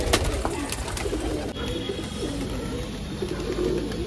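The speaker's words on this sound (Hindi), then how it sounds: "ये सीधा सीधा कबूतर आ रहा है इधर में, ये उड़ रहा है कबूतर" Pigeons coo softly at close range, with a few sharp wing-flapping bursts near the start as a pigeon takes off, over steady outdoor background noise.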